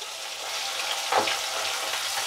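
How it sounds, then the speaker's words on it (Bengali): Pieces of rohu fish fry in hot oil, a continuous soft sizzle with a brief louder bubbling burst near the middle. "এবার একটু মাছগুলো ভেজে নিই"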